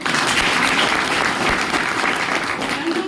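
Loud applause from a crowd at a political meeting, a thick, continuous roar of clapping at full level from start to finish, with no voices rising above it.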